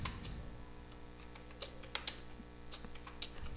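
Fingers tap on an English-layout computer keyboard in short irregular bursts, crisp clicks standing out over a low steady background hum, close to the microphone with no talk.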